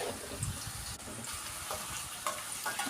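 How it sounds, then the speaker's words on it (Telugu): Chopped onion pieces frying in hot oil in a pan, a steady broadband sizzle with scattered crackles and occasional stirring scrapes, close and continuous without talk. "ఆయిల్ హీట్ ఎక్కిన తర్వాత మనం ముందుగా కట్ చేసి పెట్టుకున్న ఉల్లిపాయ ముక్కల్ని ఆయిల్లో వేసుకుని రోస్ట్ చేసుకోవాలి"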